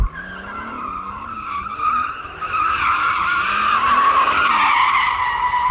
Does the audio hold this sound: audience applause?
no